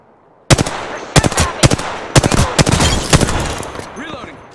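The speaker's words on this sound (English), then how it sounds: "Getting shot at." Gunfire in the Apex Legends video game: a loud, close string of sharp automatic shots in quick irregular bursts, with game voice lines faintly underneath near the end.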